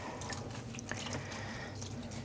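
Water dripping and trickling from squeezed yarn skeins during rinsing after home dyeing, a soft continuous patter with small splashes, close and fairly quiet, with no talking.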